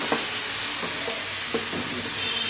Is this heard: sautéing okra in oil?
yes